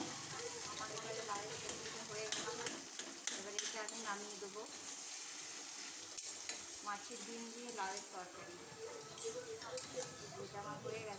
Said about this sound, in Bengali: আর একটু নেড়ে নিলাম, যদি লেগে যায় তার জন্য